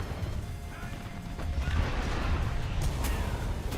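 A tank cannon fires in a video game, a broad rumbling blast with dense low-end energy that swells through the middle and holds steady, with fainter crackling bursts near the end.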